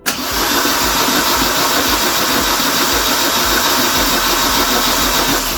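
A Westfield SEi kit car engine, revived after being seized, cranks steadily on its starter motor, a loud continuous churning whir with even rhythmic pulses and no firing, heard alone and close.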